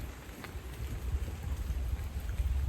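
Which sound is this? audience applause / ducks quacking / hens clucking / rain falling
rain falling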